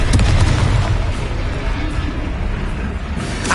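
Rumbling blast from the Confringo fire spell in Hogwarts Legacy, a loud booming explosion with a rolling low-end tail that stays dense for several seconds.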